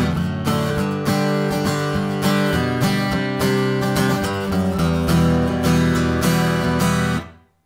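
Guitar strummed in a verse pattern, played once through at a steady driving rhythm with dense chords, loud and close, then cut off at the end. No voices.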